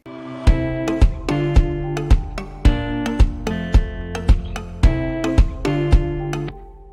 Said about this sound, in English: Here's what it sounds like with just that one guitar.